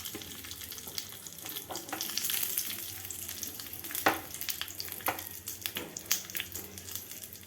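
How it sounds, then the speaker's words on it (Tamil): Oil crackles and sizzles steadily with sharp pops and spits, close by, as spices and curry leaves fry for tempering; no talking. "பசி கொண்ட நேரம் தாளிக்கும் ஓசை சந்தோஷ சங்கீதம்"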